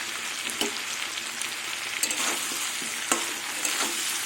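Mixed vegetables with drumstick and potato stirred with ginger paste in a pan for a vegetarian curry, a continuous sizzle with scattered spatula clicks and scrapes, no speech.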